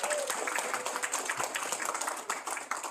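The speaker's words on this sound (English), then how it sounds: "Give him a round of applause." Audience at a proclamation signing for Sustainable September on Guam applauds for Melvin Wampat Borja of the Guam Museum, a dense, steady round of clapping filling the room from start to finish.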